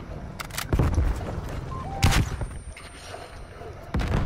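A Semtex grenade goes off in a shooter game, one sharp broadband blast near the middle followed by a trailing rumble, with other scattered gunfire bursts around it over ongoing game noise.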